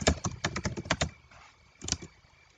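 Fast bursts of keystrokes on a computer keyboard while entering a Python print statement, a rapid cluster of clicks followed by a pause and then a short second burst, close and clear with no talking.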